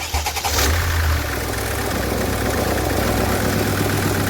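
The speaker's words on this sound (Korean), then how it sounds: "한번더 시동 걸어봐" A SsangYong Rexton that stalled while driving is cranked and its engine catches, settling into a loud, steady mid-pitched idle that runs on without any talk.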